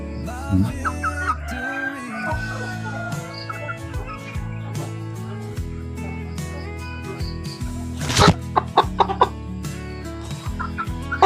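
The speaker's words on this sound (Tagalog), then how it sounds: "ito po yung aking roster na light Brahma" A Light Brahma rooster crows and clucks nearby, with repeated close calls and a few louder bursts near the end, alone without talk.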